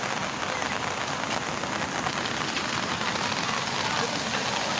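Steady, dense rain pours down over flooded ground in Laos, a continuous close hiss of drops with no pauses.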